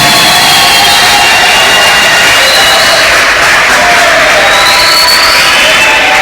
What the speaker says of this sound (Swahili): Sisi vijana tuna nguvu ya kuwapigia makofi na vigengele mpaka tutakapofika huko mbele kabisa